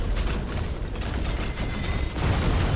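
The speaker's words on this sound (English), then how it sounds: "Taking enemy fire!" Battlefield gunfire in Iron Harvest rattles in a thick, nonstop barrage of shots and mechanical clatter, loud and close throughout.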